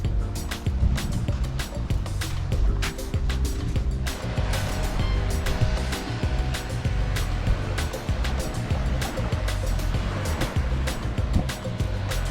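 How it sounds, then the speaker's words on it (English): Ocean waves wash steadily onto Seven Mile Beach on Grand Cayman, a continuous close roar of surf with wind noise and scattered crackling splashes throughout. "The waves are getting a little bigger,"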